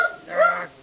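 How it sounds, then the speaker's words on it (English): A pet dog gives a single short, whiny bark indoors, close and fairly loud, with no talking around it. "that's my dog. Barking at some random person."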